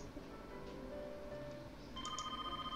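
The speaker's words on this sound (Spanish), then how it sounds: "El teléfono sonó." Telephone in the video game Nai's Training Diary starts ringing about two seconds in, a faint electronic ring over quiet background tones.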